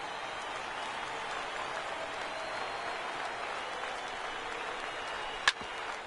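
A simulated baseball stadium crowd in a PS4 video game cheers and applauds as a steady, fairly faint roar, with one brief sharp click near the end.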